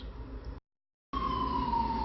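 Emergency siren from a vehicle on the street, a steady wailing tone that cuts out briefly and returns loud and close, slowly falling in pitch.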